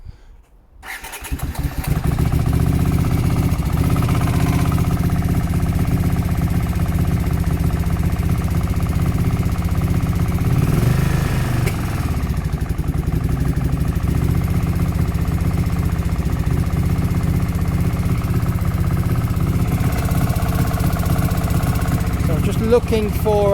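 A 1980 Honda CX500 motorcycle engine starts up, then idles steadily with a low, throbbing exhaust rumble for about twenty seconds, close by and loud.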